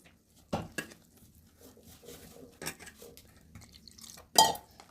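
Besan batter mixed with chili powder, salt, turmeric, garlic and cumin in a bowl: a few sharp clinks of a spoon against the bowl between quieter soft stirring, close up, with no voices.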